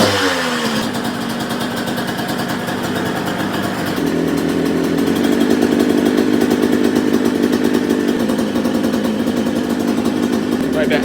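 A small engine runs steadily with the choke on, with dense harmonic firing that rises in pitch and loudness about four seconds in as the throttle opens, then holds a loud, even, buzzing drone close by.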